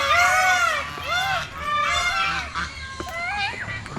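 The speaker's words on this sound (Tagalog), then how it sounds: "Meron po tayo ditong goose po or gansa." Geese honking at a zoo, a series of nasal calls repeating every second or so with other bird cries and faint crowd noise around.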